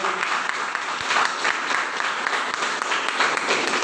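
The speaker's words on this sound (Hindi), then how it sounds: "ताली अच्छे से मार सकते हैं" Audience applause at a consumer empowerment campaign meeting, a dense steady wash of many hands clapping close by that holds at an even level for the whole stretch, with no voices over it.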